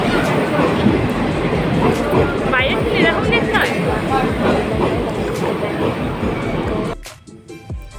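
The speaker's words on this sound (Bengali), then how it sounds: "এটা হলো শতাব্দী এক্সপ্রেস ট্রেন" The Shatabdi Express passenger train rumbles steadily from inside the carriage, with a continuous low clatter of wheels and wagon noise. Passengers chatter in the background until the din suddenly drops away near the end.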